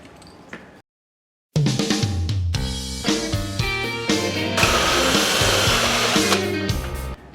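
Power drill boring through aluminum with a 3/8 inch bit while mounting a mini oil pressure gauge on a GS550 cafe racer, a brief whir, a short silence, then a loud, steady, close drilling whine with a shifting pitch.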